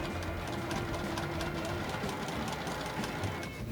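A sewing machine runs steadily, stitching lines through stuffed puff quilt squares, a continuous close mechanical whir with rapid needle ticking throughout and no talk.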